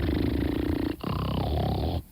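A person imitates loud snoring with a close, rough, rattling throat sound in two long drawn-out breaths, each ending abruptly; no talking.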